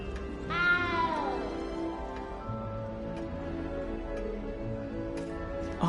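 A little cat in the video game Hogwarts Legacy gives one clear rising-then-falling meow near the start, followed by quieter ambient game sound with faint ticks.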